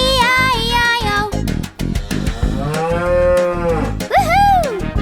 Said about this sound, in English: With a moo-moo here and a moo-moo there, here a moo, there a moo, everywhere a moo-moo.